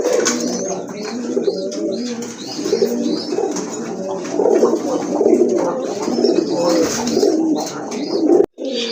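Pigeons in a breeder's sale collection coo steadily and close by, with layered, overlapping calls running throughout and a brief dropout near the end.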